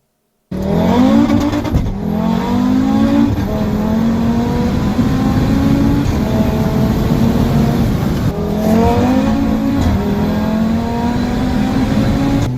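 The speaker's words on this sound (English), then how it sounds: "There's some good crackles and pops." Audi RS3 revving hard with its exhaust crackling and popping, a loud, close engine note rising in repeated sweeps with sharp pops between pulls and a screaming turbo.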